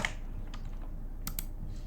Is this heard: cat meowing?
no